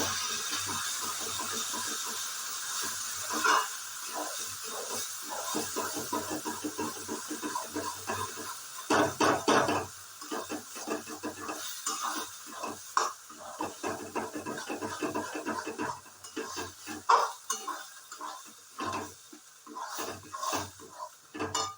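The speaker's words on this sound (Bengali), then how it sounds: "তো চলুন আমি এটা নাড়তে শুরু করি" Food being stirred in a pan over a gas flame in a Bengali home kitchen: irregular scraping and clattering strokes of a spatula against metal over a soft background hiss, with no talking.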